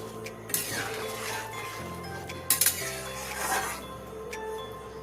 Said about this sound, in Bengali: আমি একবার নেড়ে দিচ্ছি